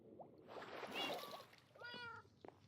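Cats in Minecraft give a couple of short, faint meows, one mid-clip and a higher rising one later, over a quiet watery background.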